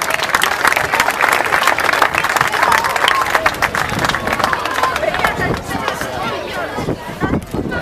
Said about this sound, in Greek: Στον Βασίλη τον Αναστασιάδη, ένα χειροκρότημα παρακαλώ στο Βασίλη.